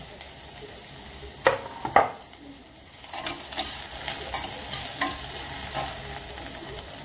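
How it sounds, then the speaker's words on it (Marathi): A small chopped onion sautés in a little oil in a pan for stuffed brinjal masala, with two sharp stirring scrapes early on, then a steady close sizzle with light spatula clicks. "थोडंसं तेल टाकायचं, छान परतून घ्यायचं।"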